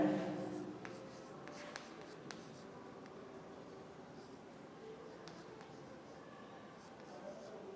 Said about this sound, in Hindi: तो हम यहाँ लिख दे रहे हैं